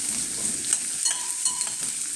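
Onion for brinjal bharit sizzles and fries in a pan, giving a steady hiss of moderate loudness with faint stirring and clinks throughout and no talk.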